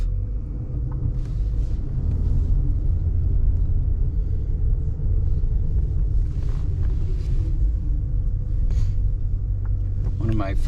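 A 1989 Lincoln Mark VII LSC with the 5.0 HO V8 heard from inside the cabin while driving: a steady low road and engine rumble that stays even throughout, with no talking.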